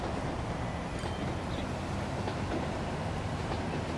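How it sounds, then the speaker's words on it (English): Freight train rolling past in the Transport Fever game, a steady, moderately quiet rumble with faint clickety-clack that holds evenly for a few seconds with no voices. "So the train's just passing through"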